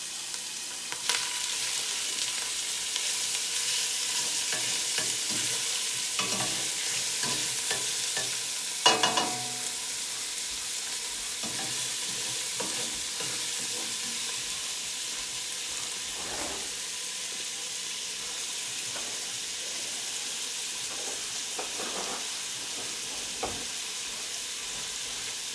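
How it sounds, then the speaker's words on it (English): Steak browning in a pot for homemade stew, a steady close sizzle and frying hiss running throughout with occasional stirring clatter and scrapes. "As we put this in the pot, we want to put some of this in there and we want to brown the steak."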